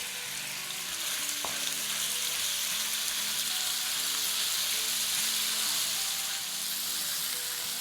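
Chicken pieces sizzle and fry steadily in a hot pan, a continuous crackling hiss with a single sharp clink near the start.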